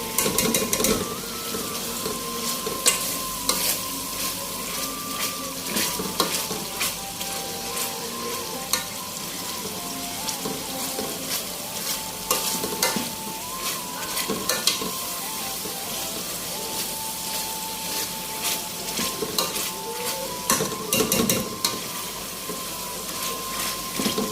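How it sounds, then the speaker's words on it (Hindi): Tomatoes fry in a hot pan for a red kidney bean rajma masala and are pressed and mashed, making dense, continuous sizzling broken by repeated scraping and squashing strokes, loud and close, with no voices. "टमाटर इतना भूनना है कि ये बिल्कुल गल जाए। मैं बिल्कुल मैश कर लेती हूँ।"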